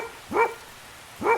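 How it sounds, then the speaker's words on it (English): A dog barks twice, separated by about a second, each bark short, clear and moderately close, over a quiet background. "my dog, who was asleep in my room, suddenly jumped up and started barking toward the stairs"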